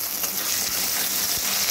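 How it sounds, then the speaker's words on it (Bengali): Potatoes frying in hot oil seasoned with asafoetida, a steady close bright sizzle throughout with faint stirring. "এবার এর মধ্যে দিয়ে দিচ্ছি আলুগুলোকে দিয়ে একটু ভালো করে ভেজে নেব।"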